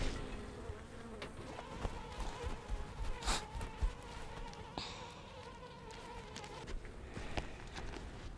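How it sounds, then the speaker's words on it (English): Honeybees at a weak hive with a tiny swarm drone in a faint, continuous buzz, with occasional clicks and knocks of hive handling on top. "These bees here are a little grumpy too"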